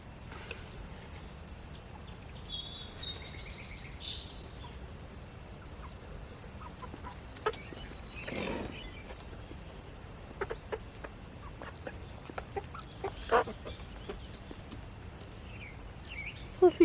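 Several chickens cluck softly in a coop setting, including fluffy-cheeked bobblehead birds, with brief scattered clucks and scratching under a steady low background hum; no talking.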